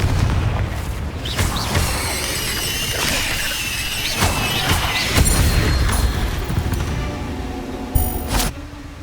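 A Confringo spell explosion in Hogwarts Legacy, a booming blast with crackling debris, followed by further magical impacts and whooshes at close range.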